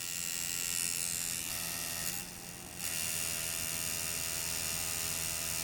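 Coil tattoo machine buzzing steadily with a thumb pressed on the armature bar, a continuous close electric hum with a brief dip in the middle.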